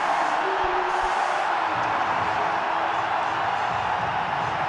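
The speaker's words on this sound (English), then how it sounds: "Listen to the crowd." A packed stadium crowd roars after a wicket falls at an India versus Australia T20 World Cup cricket match, a dense, loud and unbroken wash of cheering and whooping from thousands of fans.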